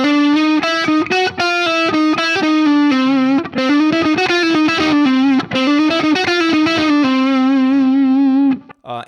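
A distorted electric guitar plays a fast chromatic run of picked notes, loud and gritty, ending with a held note that fades out.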